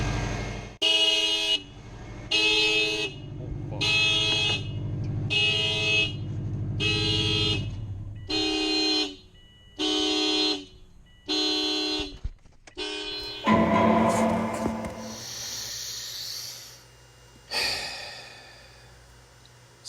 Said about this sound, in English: I didn't even know this car had an alarm.